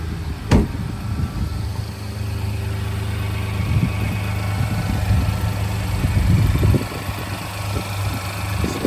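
A 2019 GMC Canyon pickup, its cooling fan staying on and temperature gauge stuck on cold, idles with a steady, loud engine drone and exhaust-valve rumble. A sharp click comes near the start, then light clatter and shifting noises over the constant hum.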